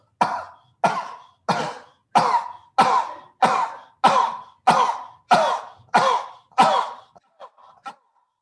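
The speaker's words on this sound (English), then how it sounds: "Start coughing." A series of about eleven forceful coughs done as a yoga exercise at a steady, evenly spaced rhythm, close and loud, tapering off into a few softer short bursts at the end.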